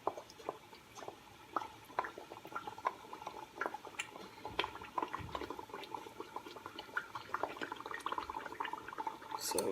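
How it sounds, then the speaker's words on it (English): Tomato paste and canned ingredients fry together in a pot, giving off a faint, steady bubbling and sputtering with scattered small pops, heard up close with no voices. "I'm also going to add my tomato paste as well, so everything fries at the same time."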